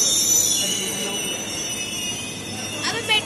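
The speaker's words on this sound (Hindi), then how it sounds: "मेट्रो आ चुकी है," A metro train pulls into a station in India with loud, sustained high-pitched wheel squeal and a rumbling undertone close by, as people talk over it.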